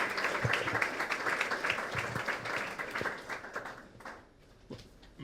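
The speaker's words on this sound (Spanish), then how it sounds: "un fuerte aplauso antes de que arranque" Audience applause at a university lecture on critical thinking and public universities, a dense crowd clapping loudly and steadily, then thinning and fading toward the end before a brief swell.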